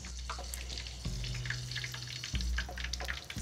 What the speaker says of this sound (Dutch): Ik ga nu de scampi bakken in de friteuse of in de wok met olie